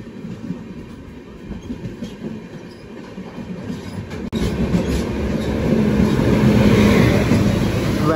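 A train rushes past, overtaking the SMVT Bengaluru–Kanpur Central train: a steady rail rumble that suddenly jumps louder midway and stays loud and close, with no talk.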